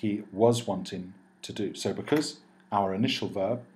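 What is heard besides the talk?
No everyday noises stand out.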